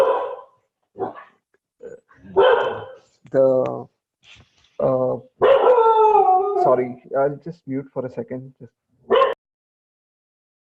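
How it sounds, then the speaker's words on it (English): A dog howls and yips in a string of drawn-out, tonal cries with short pauses between them, close and fairly loud, with a brief bit of speech in between. "Sorry about my dog."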